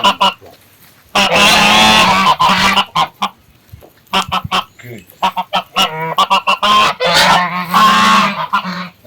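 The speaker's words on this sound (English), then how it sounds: "Look at the turkeys now. Look at the turkeys. Look at the male and the female." Male and female turkeys on a farm at Athi River give loud, close, repeated honking calls in rapid bursts, with a brief spoken word among them.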